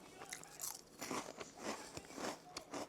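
Someone bites and chews a crunchy truffle-flavoured snack, producing repeated close, quiet crunches and crackles in a loose rhythm, with no talking.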